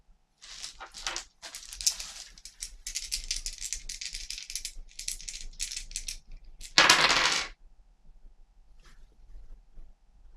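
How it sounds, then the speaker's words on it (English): Three dice roll and clatter for the board game Roll Player, rattling in bursts on a hard surface with a louder sharp scatter near the middle before settling into quiet. "I'm now going to roll the 3 dice"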